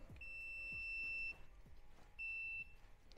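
A multimeter gives two clear, high-pitched continuity beeps about a second long each while testing a Triumph Street Triple 675R motorcycle switch, with faint handling clicks between them.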